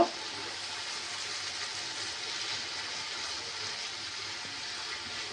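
Country chicken frying with ginger paste and garlic paste makes a close, even sizzling hiss that holds steady without a break from start to finish.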